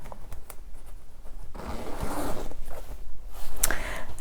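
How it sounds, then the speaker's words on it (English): A zipper drawn along a pencil case holding a planner, a few short scratchy pulls then a longer steady zip close by, with no talk. "And then I can zip it shut."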